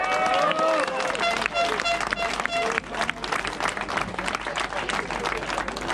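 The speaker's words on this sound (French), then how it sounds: "Voilà, on les applaudit bien fort" An audience at a motorcycle endurance event applauds loudly, dense sustained clapping from a crowd with some hubbub and a voice over it.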